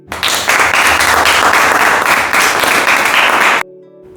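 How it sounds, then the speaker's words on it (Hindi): Children applaud Arjun in a classroom, a loud, dense burst of clapping from a group that stops suddenly after a few seconds, with a speaker's voice beginning over it. "सभी अर्जुन के लिए तालियां बजाओ।"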